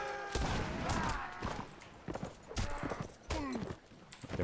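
Horse hooves clip-clop across a battlefield in Mount and Blade Warband, a steady uneven patter of galloping steps with clashing combat noise and scattered shots mixed in, fairly loud and close throughout.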